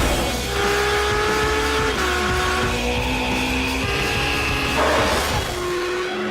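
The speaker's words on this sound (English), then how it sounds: "Welcome to the Ferrari F12 TDF. 770 brake horsepower of brain-melting V12 Fury." Ferrari F12 TDF with its 770-horsepower naturally aspirated front V12, heard loud and close as the engine howls through rising revs with distinct gear changes and some tyre squeal, no talking.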